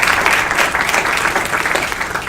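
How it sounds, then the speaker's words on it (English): Audience at a 2016 Virginia 1st District election debate claps steadily and loudly, a dense wash of hand claps filling the whole stretch without spoken words over it. "Let's give them a round of applause."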